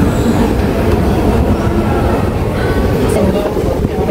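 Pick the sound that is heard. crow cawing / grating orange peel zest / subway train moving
subway train moving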